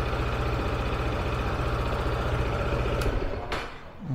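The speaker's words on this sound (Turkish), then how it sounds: "bakın direkt değişti motorun sesi" Car engine idling steadily just after its oil filter was filled, a low continuous hum that stays even and fairly quiet, with a couple of brief sharp clicks and a slight dip at the end.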